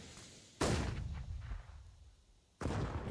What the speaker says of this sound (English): And another nade. There it is. Just completely disappears.